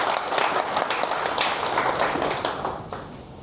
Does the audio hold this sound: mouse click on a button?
no